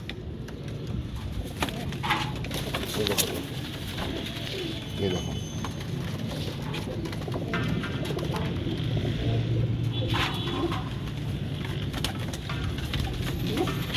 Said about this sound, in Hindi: सारे वाइट डेनिश कबूतर हैं, नीचे ही बैठे हुए हैं